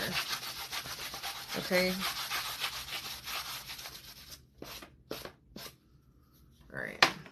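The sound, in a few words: hand sanding a surface with 220-grit sandpaper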